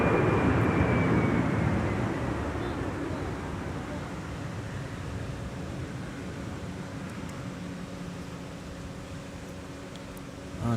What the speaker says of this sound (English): Delta 2062. Just in from Austin Bergstrom. A320.